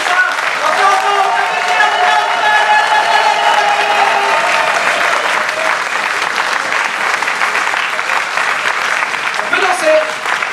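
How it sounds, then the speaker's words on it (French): Loud, sustained applause from a large audience for an improv theatre troupe at a festival, with steady clapping under a speaker's voice and some cheering. "on fasse un tonnerre d'applaudissements pour la troupe, s'il vous plaît, très fort"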